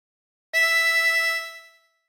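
A single sustained note from hole 9 of a chromatic harmonica begins abruptly after a short silence, holds a clear, reedy pitch for about a second, then fades away, played alone.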